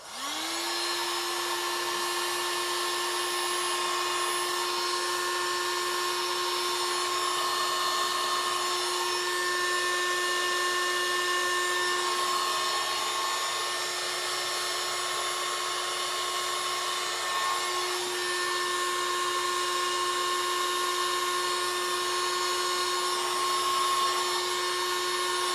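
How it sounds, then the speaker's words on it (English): A heat gun blows steadily with a constant whine while heating the tip of an old fishing rod to loosen a guide, the drone continuous and loud throughout. "So anyway, we'll apply a bit of heat and see how we go."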